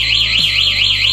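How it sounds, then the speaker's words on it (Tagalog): Siren of a Z200 DIY alarm system wails loudly and close in a fast, regular rising-and-falling sweep, with a steady low hum underneath. "Paki-pindot lang ng alarm."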